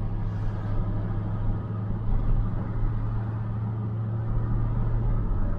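Ford F350 pickup truck engine pulling in second gear on a first drive after a brief stumble, a steady loud low rumble from inside the cab without pause, no talking.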